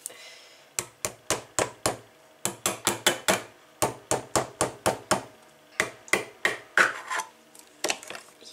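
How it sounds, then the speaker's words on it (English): A hammer taps the metal lid of a glass jar of olives to loosen a stubborn vacuum seal, sharp close knocks in quick steady runs of about twenty hits with short pauses between groups, no talking. "Trusty hammer."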